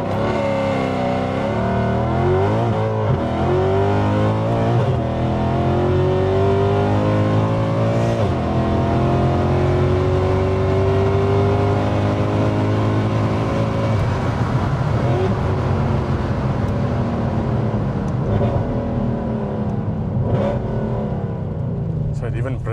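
A Mercedes-Benz C63 AMG rated at 566 hp revs and accelerates hard, its engine rising and falling in loud sweeping pulls, with voices talking underneath.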